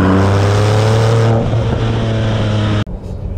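A 2010 Porsche 997 GT2 RS with a manual gearbox accelerates hard, its engine note climbing loudly through a steady, rising pitch before easing off and cutting abruptly near the end.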